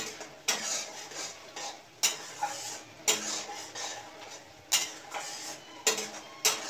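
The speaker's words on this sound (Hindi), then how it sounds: "अभी मैं और भी 2 मिनट तक पकाऊंगी कोकोनट कुकुम्बर टमाटर को एक साथ" Coconut, cucumber and tomato cooking together in a pan for sweet cucumber chutney. A utensil clinks against the pan every second or so over a faint low sizzle, quiet and close, with no talking.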